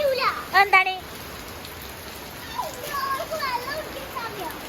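Rain falls in a steady, even hiss across the whole stretch, while children's excited voices ring out near the start and again toward the end.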